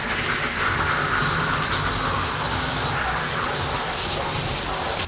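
Warm water runs steadily into a bathtub to soak an AmazerBath non-slip bathtub mat, a continuous close gushing rush that holds even from start to finish with no voices.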